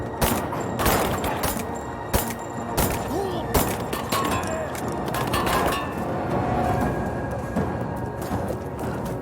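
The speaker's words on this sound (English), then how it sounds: "I'm under fire!" Gunfire in a Tomb Raider video game, with dense rapid shots and clattering impacts in continuous, loud bursts over a busy background, with faint voices mixed in.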